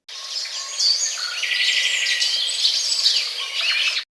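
Bright chirping and twittering from small cartoon birds in a Hindi children's story, a steady busy chatter lasting a few seconds with no speech over it.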